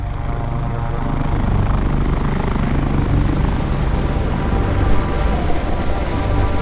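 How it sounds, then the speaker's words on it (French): A helicopter's loud rotor thrum and engine whine hold steady and close throughout, with no voices. "Le premier hélicoptère se pose sur l'immense pelouse principale."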